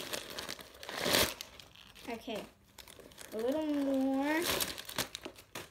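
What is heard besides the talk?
paper packing being pulled out of a new makeup case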